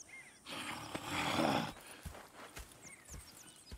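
Horses move around in the video game Red Dead Redemption 2, with a swell of snorting and breathing followed by scattered hoof thuds on the ground, faint and fairly close, with bird chirps in the background.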